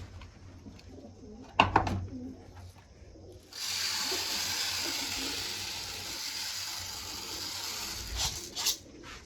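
Pigeons in a loft coo softly while being fed grain, a steady near rustle and murmur through most of the stretch, with a few brief louder knocks and flutters, no voices.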